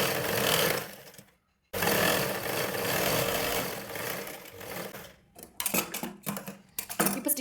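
A sewing machine stitches a blouse lining with a steady, close motor whir that stops briefly, runs again, then breaks into short uneven bursts near the end.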